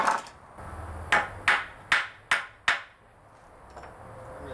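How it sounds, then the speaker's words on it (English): Five sharp hammer blows drive nails into 2x4 framing boards, evenly spaced and close, each strike ringing briefly before the next. "I'm going to start my nails"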